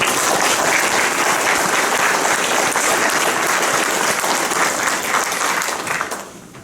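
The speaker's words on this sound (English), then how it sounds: "I'd like to ask for a round of applause for our safety workers here and" Round of applause for the safety workers at an auto racing hall of fame ceremony, a steady, full crowd clapping for about six seconds before quickly tapering off.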